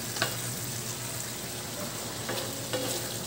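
Tomato sauce with sugar and bay leaves simmering in a pan while being stirred, a steady soft sizzle with a few faint scraping strokes of the utensil.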